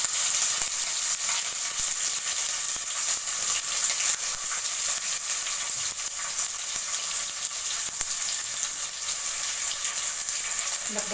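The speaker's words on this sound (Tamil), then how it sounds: "இந்த ஸ்டேஜில் வெங்காயம் போட்டுக்கலாங்க." Chopped onions sizzling and frying in hot oil with popped mustard seeds, a steady broadband hiss with faint stirring clatter, close and continuous, no voices.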